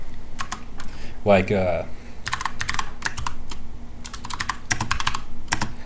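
Keystrokes clatter on a computer keyboard in quick bursts while entering a search query in the Qutebrowser status bar, with a brief spoken word partway through and the taps continuing in uneven clusters.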